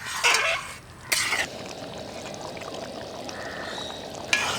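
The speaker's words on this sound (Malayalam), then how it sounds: "ഒരു രണ്ട് സ്പൂൺ നെയ്യും കൂടി ചേർക്കണം അപ്പോൾ മൊത്തം ഏഴ് സ്പൂൺ നെയ്യായി വീണ്ടും ഇളക്കി കൊടുക്കണം" Ghee being stirred into thick jaggery syrup for aravana payasam in a pot at home, a steady soft bubbling and scraping with a few louder clinks of the spoon against the pan.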